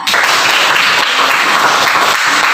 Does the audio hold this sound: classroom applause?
yes